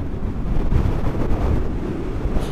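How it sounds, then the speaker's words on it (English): Strong wind from Storm Ciara roars and buffets the microphone continuously, a dense low rumble with gusting surges throughout. "it's bloody windy"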